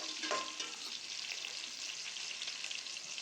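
Onions for a fish curry sautéing in a hot pan, a dense, steady bright sizzle with light stirring, close up and continuous, no voices.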